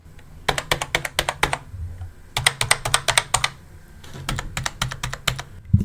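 Keys clack on a computer keyboard in three quick bursts of typing, each a rapid run of crisp, close taps separated by short pauses, with no talk.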